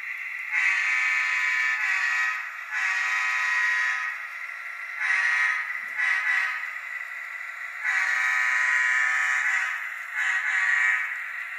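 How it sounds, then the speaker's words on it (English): A Union Pacific diesel locomotive horn sounds in a series of long and short blasts, a bright, blaring multi-tone chord that swells and breaks off repeatedly, loud and fairly close, with no talking. "that horn sounds really good. That definitely sounds like a UP, like a UP horn."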